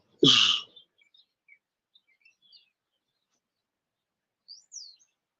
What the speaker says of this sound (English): Them birds are in their house. The trees is their house.